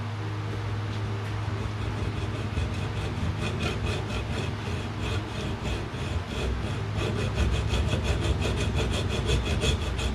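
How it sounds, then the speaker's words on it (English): A hacksaw cuts through the plastic housing of a fuel pump from a 1994 Jeep Grand Cherokee with close, gritty back-and-forth strokes, steady at first and then in quicker, sharper rhythmic passes. "So I'll just take a hacksaw. Just make a straight cut right here."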